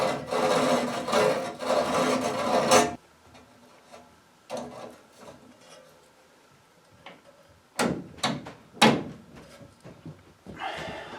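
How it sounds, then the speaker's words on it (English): Edge of a cut plumbing pipe filed smooth before a SharkBite fitting goes on, a dense rasping scrape for about three seconds, followed by sparse clicks, knocks and handling taps close by. "Going to take the edge off of this so I don't pinch or cut the gasket inside of the shark"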